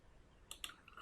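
A few quick, faint computer mouse clicks on a desktop, two close together and a sharper one right at the end, over a quiet background hiss.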